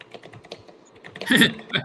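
Computer keyboard typing in quick, irregular clicks, fairly close, building to a denser, louder burst of keystrokes near the end.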